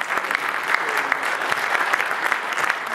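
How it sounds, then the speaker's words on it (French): An audience at a formal assembly event applauds a guest MEP called onto the stage, steady, close, crackling clapping from many hands that keeps up evenly from start to finish. "que je vous propose d'encourager par quelques applaudissements"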